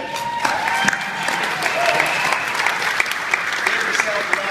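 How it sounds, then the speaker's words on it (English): A conference audience at an AAF farewell applauds loudly with scattered cheers and whoops, a thick, continuous clapping crowd with voices calling out over it throughout. "Give yourself a round of applause."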